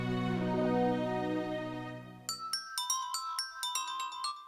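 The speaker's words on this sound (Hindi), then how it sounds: "रिंग बज रही है जीजा।" Phone ringtone on an outgoing call, a repeating electronic chime pattern of bright melodic notes starting midway after a droning musical backdrop fades, moderately loud and alone without talk.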